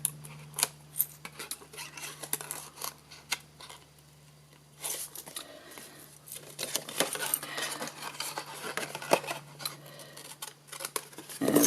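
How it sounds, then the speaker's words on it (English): Scissors snip repeatedly through card stock as a coffin-shaped card is trimmed for a Halloween craft, a series of crisp close cuts with short pauses and a low steady background hum. "I'll finish that off with a pair of scissors"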